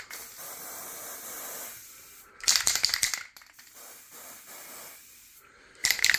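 Aerosol cans of peelable Foliatec paint sprayed onto car wheel rims, giving two loud hissing bursts separated by quieter stretches of faint background noise.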